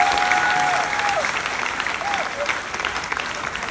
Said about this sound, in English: So why didn't you applaud that?